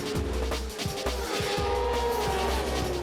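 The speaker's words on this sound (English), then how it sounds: "This is sidecar racing" Sidecar racing motorbikes roaring around a race track in Leicester, United Kingdom, engines revving up and down in repeated rising surges, loud and close with no talking.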